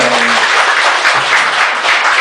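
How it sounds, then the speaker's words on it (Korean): A gathered congregation gives a round of loud, continuous applause, with many hands clapping densely and a brief low voice at the very start. "박수 한번 보내주세요."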